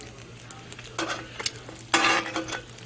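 Pierogies frying in a skillet, a soft steady sizzle broken by a few louder bursts of stirring and scraping, close and with no talking.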